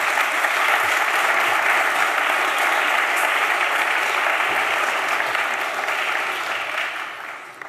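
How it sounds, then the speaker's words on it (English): A large audience at a high-level UN conference gives a conference panel dense, sustained applause that holds steady for several seconds, then begins to thin and fade toward the end. "please make a round of applause for our panel"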